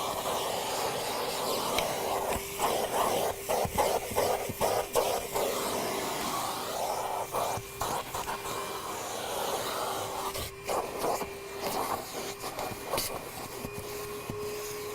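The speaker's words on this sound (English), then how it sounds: "All right, we're going to vacuum." A vacuum cleaner runs continuously along a car seat's upholstery and the gap between seat back and cushion, its steady drone broken by repeated brief bumps and suction changes as the nozzle moves, close and alone.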